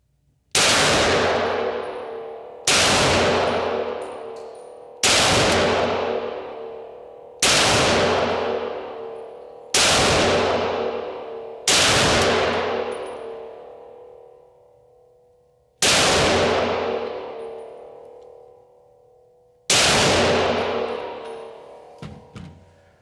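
A century-old Spanish Astra 1921 pistol chambered in 9mm Largo fires eight loud, sharp shots spaced a few seconds apart outdoors, each crack followed by a long ringing decay.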